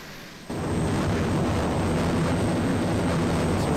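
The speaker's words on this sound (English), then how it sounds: "let's just get onto the runway. It spawns you a bit far away from the runway. But, oh well. and we're going to full throttle ahead." An airplane engine in the video game Arma 2 runs at full throttle on a runway. After a brief quiet start it rises into a loud, continuous broadband roar that holds steady.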